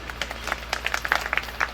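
Audience clapping at a devotional jagran gathering, a loose patter of scattered claps from a modest crowd under a steady low hum, fairly close.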